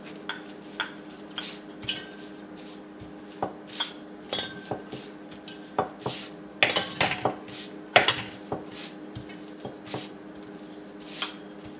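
A rolling pin works oiled dough thin on a board while the dough is turned, giving irregular wooden knocks, taps and light clattering at close range with no voices.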